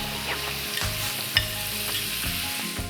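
About 150 grams of butter sizzles in a pan over medium heat for a sage sauce, a dense, close, continuous frying hiss with faint stirring clinks and no talking.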